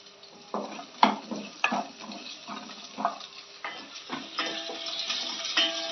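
Ginger sautéing in a pan for chicken curry, a soft close sizzle broken by irregular stirring scrapes and clicks of a spoon against the pan, moderately quiet with no voices.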